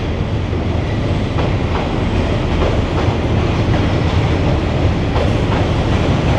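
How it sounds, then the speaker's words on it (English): A train rolls past at close range in Hanoi, Vietnam, a loud continuous rumble with rhythmic clattering of wheels over rail joints throughout. "That's the train I want to see."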